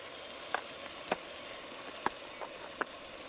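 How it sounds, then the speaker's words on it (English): Beef and chorizo sausage frying in a pan outdoors in the woods, a quiet steady sizzle broken by a few sharp pops and crackles. "the beef is now done. It's time to add the chorizo sausage."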